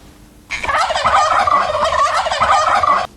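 Turkeys gobble in a loud, continuous rattling burst lasting about two and a half seconds, close up and starting abruptly, several birds' calls overlapping with no talking.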